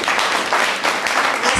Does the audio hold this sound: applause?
yes